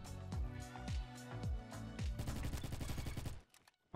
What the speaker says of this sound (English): I'm being shot from so many different places.